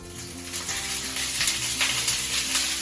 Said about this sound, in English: That nice sizzle right there is what you want to hear